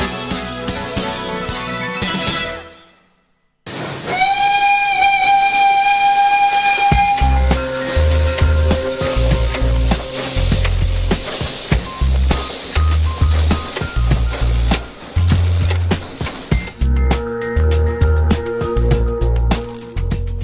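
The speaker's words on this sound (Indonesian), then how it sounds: "Itu kereta lama yang kita restorasi kembali, rehab kembali, kemudian dijadikan kereta wisata." The Sepur Kluthuk Jaladara, a restored old steam tourist train in Solo, sounds a long, loud whistle, then chugs and clanks rhythmically up close, with another whistle near the end.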